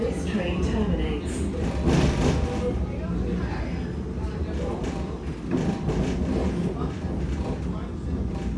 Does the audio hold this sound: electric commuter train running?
yes